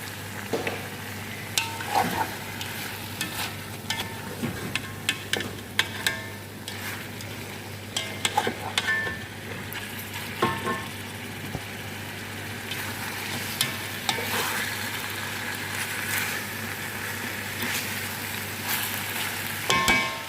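Garlic fries in a pan for an Arabic-style chicken dish, a soft continuous sizzle broken by scraping and clacking stirring strokes, close by with no speech.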